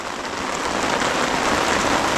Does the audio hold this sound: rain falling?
yes